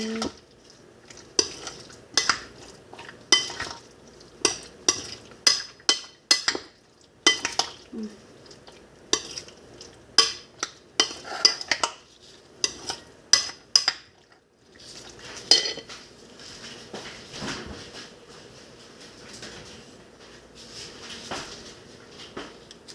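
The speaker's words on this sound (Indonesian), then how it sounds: "Jadi diaduk tuh, diaduk teman-teman." A utensil stirring boiled eggs in a metal pot, producing repeated clinks and scrapes in irregular clusters, fairly close and moderately loud, with quiet pauses between bursts.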